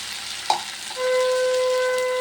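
Masala poured into a hot pan for an okra and sesame dish: a small splash, then a loud, steady sizzle that continues with a thin, constant whine above it.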